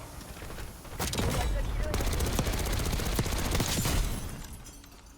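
Automatic weapon fire in the shooter Black Ops 6 comes as a loud rapid burst of close shots that runs for about three seconds and then stops, with lighter game noise before and after it.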